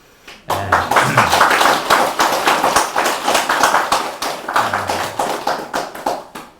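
Gathered worshippers at a Buddhist temple ceremony for Buddha's Birthday clap loudly and close by, a run of sharp, fairly regular claps that starts abruptly and carries on steadily to the end.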